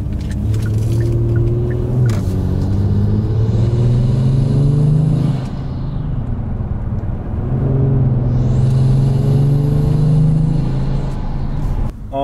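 Kia Stinger fitted with an HPS cold air intake accelerates hard with the windows shut, its loud engine note climbing through two long pulls with a gear change between them, heard from inside the cabin.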